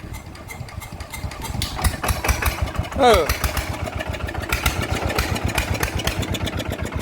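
A motorcycle engine fitted with a new exhaust idles with a steady low chugging rumble close by, while people talk over it.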